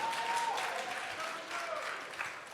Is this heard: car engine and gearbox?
no